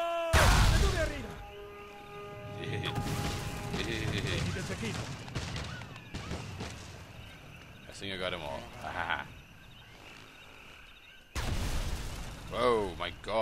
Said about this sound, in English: Whoa, my god, there's a lot of explosions.